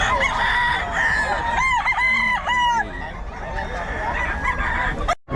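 A rooster crows loudly and close among clucking chickens at the Bocaue market, one long drawn-out crow rising over busy fowl chatter, with market noise and brief voices around it.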